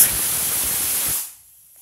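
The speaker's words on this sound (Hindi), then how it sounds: "हमने कुकर में 5 विसिल लगा लिया है।" Steam hisses loudly and steadily from a pressure cooker as pressure is released after boiling suran (elephant foot yam), then cuts off abruptly after about a second.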